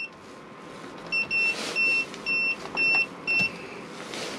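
A gas fridge burner in an Auto Trail Imala 734 motorhome clicks repeatedly as it self-ignites, a rhythmic series of six or seven short electronic clicks over a steady background hum.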